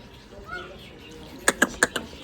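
Four quick, bright chirps from a sparrow, close by and evenly spaced, over a faint background hum.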